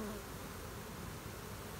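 A dense, droning buzz of many bees swarming together, steady and close, with no voices.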